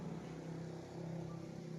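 A motorcycle passing during outdoor filming, a low steady engine drone that holds faintly in the background with no talk.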